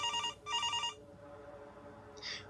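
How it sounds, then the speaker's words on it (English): An old-style kitchen telephone rings loudly with two sharp bell bursts, a pause, and the start of a third ring, heard up close in a quiet room. "the kitchen phone began to ring."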